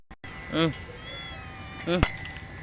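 Two distinct cat meows, one early and one later, with quiet background and a sharp click near the second call.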